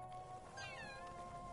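A cat in the horror video game The Evil Within gives one drawn-out, wavering meow over a steady, low game ambience.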